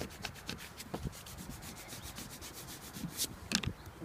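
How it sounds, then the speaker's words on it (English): A squeegee or hand rubs down a vinyl vehicle graphic, making close, quiet scraping and rubbing strokes in an uneven rhythm, with no voice present. "Rub it down really tight."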